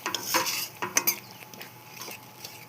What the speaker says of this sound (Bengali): এটা এবারে কষানো হবে।